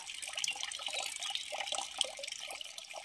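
Stored water is poured out for a bath at home, a steady splashing trickle with small drips and gurgles, fairly close and moderate in level, with no talk over it.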